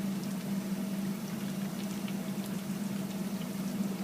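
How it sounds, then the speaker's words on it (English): A pot of cream of smoked turkey and wild rice soup simmers steadily, with a low continuous bubbling hiss and faint pops that stay even throughout, with no talk. "just let this simmer for a couple minutes just to come up to temp again"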